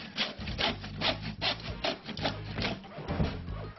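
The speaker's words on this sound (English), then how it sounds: "We start by cutting our piece of lattice to one side of the centre batten." Hand saw cutting a piece of wooden lattice, close rhythmic back-and-forth strokes, about eight rasping pulls in under four seconds.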